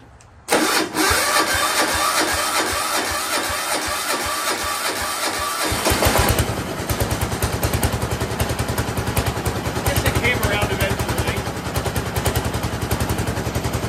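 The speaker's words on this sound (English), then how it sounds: "See how this diesel Big Ten cold starts unaided." A diesel Big Ten engine on a gator trailer cold-starts unaided: after a few seconds of cranking it catches and settles into a loud, close, rapid knocking idle.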